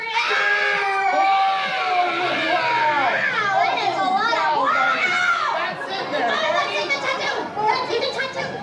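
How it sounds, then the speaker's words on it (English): An audience including children shrieks and screams together loudly on cue at a horror make-up show at Universal Studios Orlando, high excited voices overlapping for several seconds. "Don't forget to scream"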